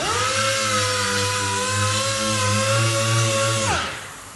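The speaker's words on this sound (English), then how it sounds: "We're now going to sand down the bumper corner to remove the scratches" A power sander works the scratched corner of a car bumper, giving a loud, steady, close whine that holds pitch for several seconds and then winds down as it stops.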